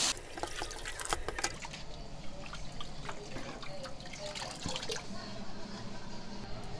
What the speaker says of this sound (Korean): 그래가지고 찬물로 헹궈?